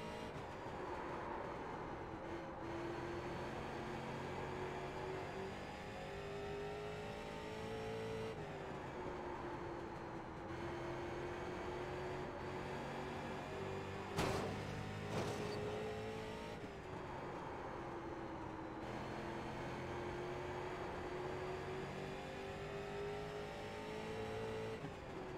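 Race cars circle the short oval at Southern National Motorsports Park in iRacing, a steady, droning engine whine that rises and falls with gear changes and passing cars, continuous and fairly loud throughout.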